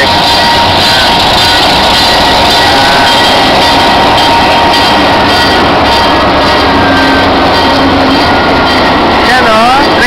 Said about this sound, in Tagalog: Train o, bebe o. Choo-choo train.